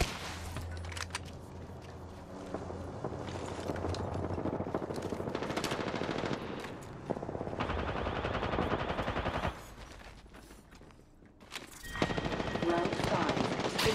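Bursts of machine-gun fire and single gunshots in the battle royale shooter Apex Legends, loud and close, alternating with quieter gaps and game sounds over about fourteen seconds.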